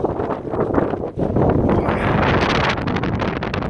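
Loud, roaring gusts of 80 km/h wind in snowy, bitter cold buffeting the microphone continuously, with rustling underneath and no voices.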